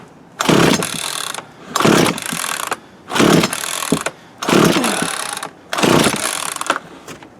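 A Craftsman 42cc chainsaw that hasn't run in years and may be flooded is pull-started five times. Each roughly one-second pull gives a loud, close ratcheting whir, separated by short quiet gaps, and the engine never catches.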